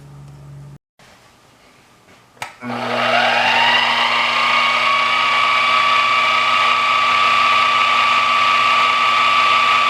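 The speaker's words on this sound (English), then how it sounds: "we're going to go for a center drill to get that started" A close, loud drill whine starts after a brief knock and runs steadily as a center drill bores into metal, a sustained high-pitched machine drone with a low hum beneath.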